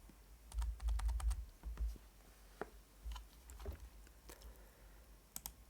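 Computer keyboard arrow keys pressed on a setup running a VisionFive 2 RISC-V board, quick bursts of soft clicks followed by scattered single taps, faint and close.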